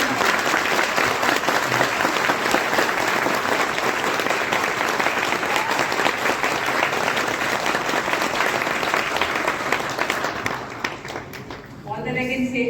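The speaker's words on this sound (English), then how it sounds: "Please let's give them a big round of applause." A large audience at an event for a national association for the blind gives sustained, loud applause in a hotel hall, dense and even for about ten seconds before it fades and a voice starts speaking.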